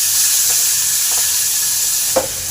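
Raw jackfruit sizzles steadily in hot ghee, a close, continuous frying hiss with a few soft stirring scrapes and one brief sharper crackle near the end.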